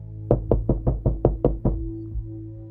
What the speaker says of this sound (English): This time the knocking was loud enough to rattle the door.